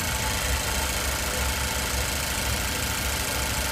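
The 2.0-liter four-cylinder engine of a 2016 Ford Focus idles steadily under the open hood, a constant low hum with a fine mechanical rattle and no voices.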